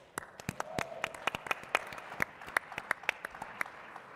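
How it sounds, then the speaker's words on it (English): Scattered, uneven hand claps from a small group at a photographic competition finale, sharp and distinct rather than a full roar, trailing off toward the end. "And applaud right now."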